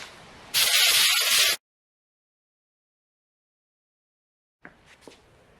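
A single loud hiss from a spray can sprayed outdoors onto a coir doormat lasts about a second, followed by near silence and then faint handling noises.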